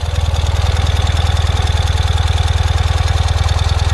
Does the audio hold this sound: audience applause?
no